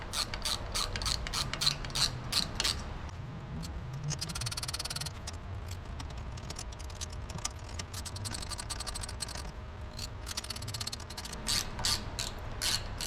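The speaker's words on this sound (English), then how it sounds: "You can go ahead and tighten these down." Ratchet tightening M6 bolts on a swing-out spare tire carrier being installed on a Polaris RZR Pro, giving rapid metallic clicking bursts through much of the stretch with some rustling in between, close with no talk.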